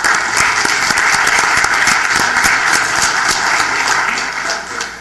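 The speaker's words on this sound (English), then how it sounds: "I'd like a special round of applause for them for giving back now as volunteers to their community." An audience claps at a Santa Ana city council meeting, a dense, lively burst of applause that holds steady and then tapers off toward the end.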